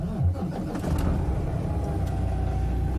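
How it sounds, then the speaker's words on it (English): A Peterbilt 579 truck's Cummins ISX 425 HP diesel engine starts with a quick crank and settles into a steady, deep idle rumble heard from nearby, cutting off abruptly at the end. "Now I'm going to start the engine."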